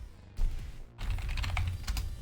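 Rapid typing on a computer keyboard sounds close and busy, a dense stream of clicking keys after a brief pause, with no one speaking.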